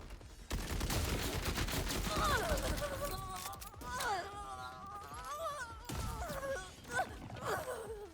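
Gunfire and grenade blasts in the video game Borderlands 4, with dense bursts of shooting and explosions that run almost continuously, loud and close, while game effects and a voice come through over the combat.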